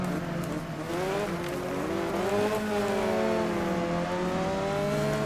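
A car engine in a racing video game drones loudly and continuously, its pitch rising and falling smoothly with acceleration and gear changes, with no speech.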